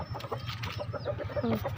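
Several backyard chickens cluck close by, rapid overlapping clucks with a few higher squawks and chick peeps, busy and continuous.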